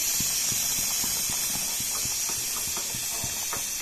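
Steady loud hiss of steam escaping under pressure from a pressure cooker cooking fish curry, continuous throughout, with faint rhythmic knocking beneath it.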